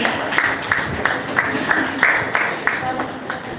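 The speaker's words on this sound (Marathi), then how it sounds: "जोरदार टाळ्या झाल्या पाहिजे." A crowd claps for a couple being honoured at an award ceremony at a book publication event, the applause a steady, rhythmic patter of many hands, moderately close and filling the whole moment.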